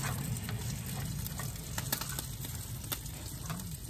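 Garlic fried rice frying in a pan at a campsite, a continuous close sizzle with occasional stirring scrapes and crackles, steady and fairly loud.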